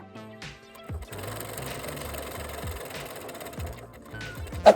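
A sewing machine stitches the waistband of a pleated yellow skirt in quick mechanical bursts, starting and stopping, with a faint click at the end.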